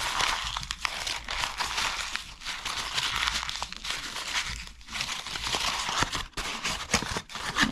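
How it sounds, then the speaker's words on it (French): Sheets of paper coated with shoe polish are crumpled by hand up close, a continuous loud crinkling and rustling with sharp crackles throughout, no talk over it. "on essaie de les froisser"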